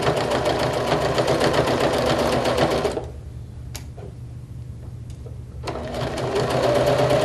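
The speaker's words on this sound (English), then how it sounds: "And we'll sew across here, and I'm going to back stitch." A sewing machine stitches across fabric, running steadily for about three seconds, pausing briefly, then starting again for a back stitch; the motor's rapid mechanical whirr is close and loud.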